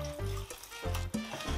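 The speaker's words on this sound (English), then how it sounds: "We're gonna add some water right now." Water is poured into a pot of Spanish bean soup in a home kitchen, heard as a few short, close splashing pours with brief pauses between them.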